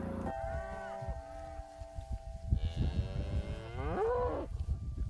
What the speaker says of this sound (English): The cattle readily move in to a new paddock because they always know they're going to get a fresh bite of grass.